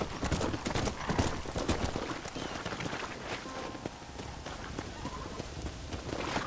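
Rapid hoofbeats clip-clop steadily throughout in the video game Red Dead Redemption on PS4, a horse running close by with a dense, continuous rhythm and a faint wash of rain-like noise behind.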